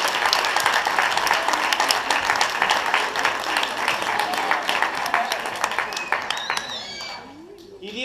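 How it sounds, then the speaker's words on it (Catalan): Sustained applause from an audience of parents at a children's theatre performance of The Lion King, dense and steady clapping that fades toward the end as a voice begins to speak. "demana't un aplaudiment a tots els pares i les mares que han"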